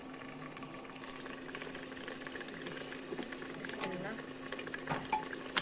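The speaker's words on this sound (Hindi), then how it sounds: "तो जी मीट भी फ्राई हो रहा है।" Meat and spinach with ginger-garlic paste frying and being stirred in a pan, a steady close sizzle with soft scraping throughout, briefly under a single spoken word.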